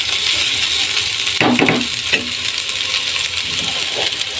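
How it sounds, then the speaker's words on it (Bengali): Plantain peels fry in hot oil in a pan and are stirred: a steady, bright sizzle runs throughout, broken by a few light scraping and clinking stirs near the middle. "এবার আমি এইভাবে নেড়ে নেড়ে আমি ভেজে নেবো লাল লাল করে।"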